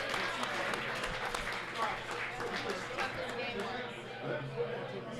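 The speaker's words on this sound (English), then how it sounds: "Everybody give Dan a round of applause" A live audience at a Bearcat basketball podcast taping claps steadily for a fan named Dan, a busy wash of hand claps mixed with crowd chatter throughout.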